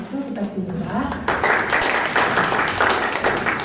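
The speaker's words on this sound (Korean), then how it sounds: "좋은 말씀 부탁드리면서 박수 부탁드립니다." Audience at a business lecture forum breaks into dense, sustained applause right after a short stretch of speech, with the clapping loud and steady to the end.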